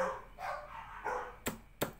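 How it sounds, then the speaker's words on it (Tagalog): A dog barks a few times at a distance, faint and muffled, with two sharper yaps toward the end. "Nagtatahulan na naman ang aso ng kapitbahay."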